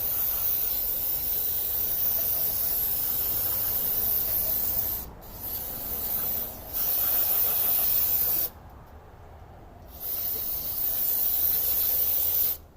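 Brake cleaner sprayed onto the engine of a 2003 Chevrolet Cavalier 2.2L supercharged around the crank pulley and front main seal, close, loud hissing bursts broken by a few short pauses, with no speech.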